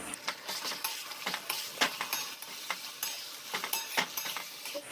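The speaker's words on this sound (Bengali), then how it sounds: "এবার মশলাটাকে ভালো করে কষিয়ে নেব একটু জল দিয়ে যাতে মশলাটা পুড়ে না যায়" Ground spices, including turmeric and chili powder, are stirred and fried in mutton fat for ghugni. A soft sizzle runs underneath irregular scraping strokes of the utensil in the pan, heard close up with no talking.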